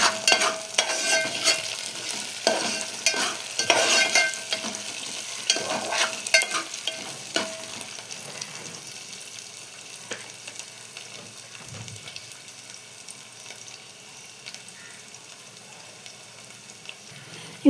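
Curry leaves stirred through a frying tomato curry with meal maker soya chunks: a busy sizzle with repeated scraping strokes of the spoon that eases into a softer, steady fry.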